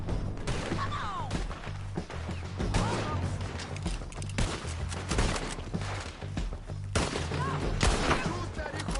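Gunfire in the game Red Dead Redemption 2, a rapid barrage of loud sharp shots and crashes bursting repeatedly over a steady low rumble, with shouting voices mixed in.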